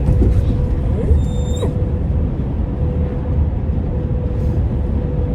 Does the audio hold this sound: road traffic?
yes